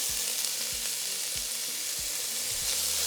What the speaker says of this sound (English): Once our oil is nice and hot, we're going to add our small diced onion.